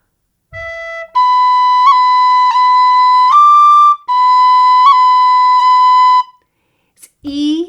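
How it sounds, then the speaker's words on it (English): An Irish tune, Toss the Feathers, played on a D tin whistle, loud and close, with sustained bright notes broken by quick ornamental cuts and a brief pause, ending with a short voice. "So why don't you grab your D whistle and let's get started with Toss the Feathers."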